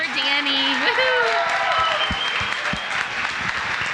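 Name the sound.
audience applause for Danny at live event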